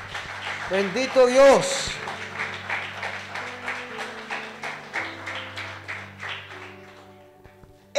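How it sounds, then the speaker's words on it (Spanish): Church congregation applauding, with rhythmic clapping over sustained organ or keyboard chords and a voice speaking briefly at the start, the claps continuing steadily and fading toward the end. "de un aplauso al Señor"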